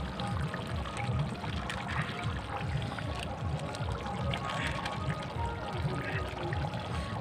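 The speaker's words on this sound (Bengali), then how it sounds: "তো সেই জলটাই দিয়ে দেবো এখানে। তো জলটা দিয়ে নিই আমি।" Water poured into a pan of cooking meat curry, a steady close pouring splash and gurgle that runs throughout, with a voice now and then over it.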